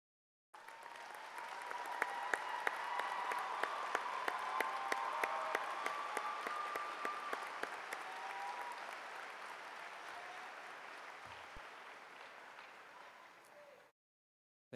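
A commencement audience at Fox Valley Technical College in spring 2018 applauds faculty and staff. Full, sustained clapping from a large crowd swells quickly, holds for about twelve seconds and then fades out.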